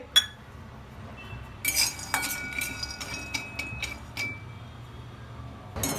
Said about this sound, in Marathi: शेंगदाणे पहिल्यांदा शेंगदाणे भाजून घ्यायचे सगळे